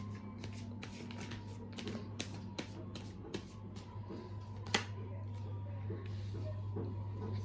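Tarot cards being shuffled by hand, a series of quick riffling and slapping bursts close up, with a steady low hum underneath.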